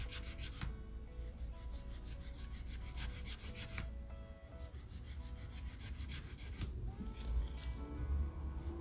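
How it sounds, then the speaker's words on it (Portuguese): A nail file rasps along the sides of a fiberglass nail coated in white gel, in quick, close, rhythmic back-and-forth strokes with a few brief pauses between passes. "Lixei a ponta, vou lixar as laterais."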